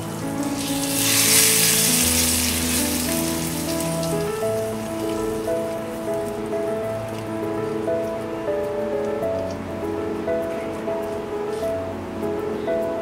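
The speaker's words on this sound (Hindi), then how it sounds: "ये टेम्परिंग को हम ये चटनी में डालेंगे। मिक्स कर देते हैं।" Hot tempering is poured into red coconut chutney made with red chilli and onion: a loud, bright sizzling hiss bursts up at first, then settles into a softer crackle while the mixture is stirred, over a steady tonal background.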